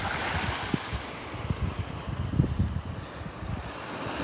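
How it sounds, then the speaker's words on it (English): Waves wash up and sift along a beach at Delnor-Wiggins, a steady broadband rush with rolling surges and wind buffeting the microphone, no voices. "Waves coming up here and sifting, doing the sifting for me, pushing everything around."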